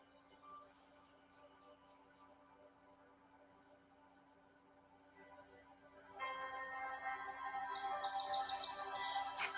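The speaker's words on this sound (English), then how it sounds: "Listen to the birds." Birds chirping and singing outdoors, faint and scattered at first, then a louder, busier burst of high calls that keeps going over soft background hum.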